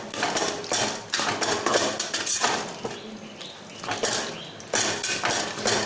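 A spoon or ladle scraping and knocking against a metal pot while biriyani is stirred, giving irregular clattering strokes and clinks at close range, with no talking.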